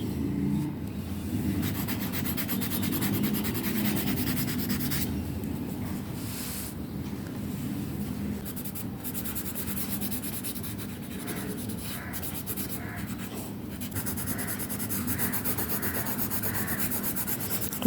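Colored pencils scratch and rub steadily across the paper of a drawing book, a continuous close dry scraping with shifting strokes and brief pauses in pressure.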